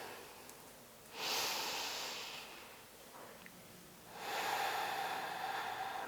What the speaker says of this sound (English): Just taking a few deep breaths here, nice and slowly.